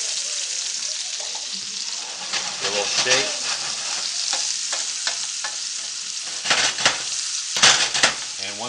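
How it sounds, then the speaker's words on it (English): Sliced onions sizzle steadily in a hot pan, with bursts of stirring and a shake of the pan, while a person briefly speaks. "Ooh, listen to them sizzle."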